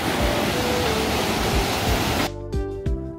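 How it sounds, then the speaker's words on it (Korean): Mountain stream in Makdong Valley, swollen after heavy rain, rushing as a loud broad roar for over two seconds, then cutting off abruptly into quiet hum and a few soft knocks. "비가 최근에 많이 와가지고요. 계곡이 엄청 좋네요."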